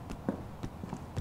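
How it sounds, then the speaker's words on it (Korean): Grandma's footsteps in the horror game Project Nightmare, a run of soft, dull thuds spaced unevenly about every third of a second, muffled and moderately near. "근데 왜 할머니의 발자국 소리가 들리죠?"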